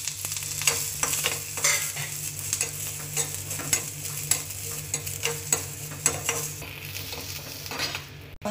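Garlic and small onions sizzle and fry in hot oil in a home kitchen, a steady close crackle with regular scraping stirs every half second or so, continuing without talk until a brief clatter at the end.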